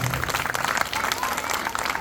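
An audience at a stage mind-magic show bursts into continuous applause, the dense clapping carrying on steadily with voices mixed in.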